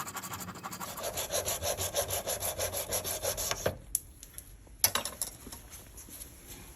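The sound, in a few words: small hand saw cutting an oversized piece for a pen body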